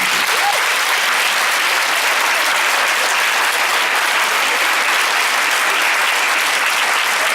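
Dense, steady applause from a convention panel audience at JIBCON5, a loud continuous wash of many hands clapping together with no voices standing out, holding evenly for several seconds.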